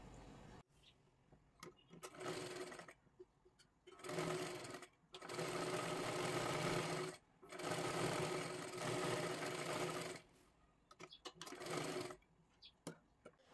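An electric sewing machine stitches a sleeve lining in several bursts of whirring, a few seconds each, separated by short pauses and clicks, heard fairly close and alone.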